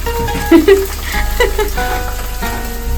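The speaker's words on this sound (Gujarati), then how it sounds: "વ્લોગર આજે ભૂંગળા તળે છે." Bhungla snacks frying in hot oil, with a close, steady sizzle and bubbling, broken by a few clinks of a utensil being stirred through the pan.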